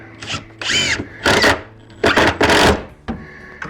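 A power drill drives screws into a wooden block in several short whirring bursts separated by pauses, loud and close, with a final brief spin at the end.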